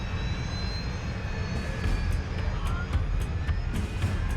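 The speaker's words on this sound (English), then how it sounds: "Engines 1 and 2, both back online." Jet airliner engines spooling back up after flameout in volcanic ash, a steady loud broadband roar with a low rumble and faint rising tones, continuous throughout.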